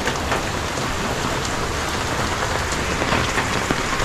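Steady, heavy rain pours down continuously with strong wind, a dense hiss with scattered drops pattering on surfaces throughout.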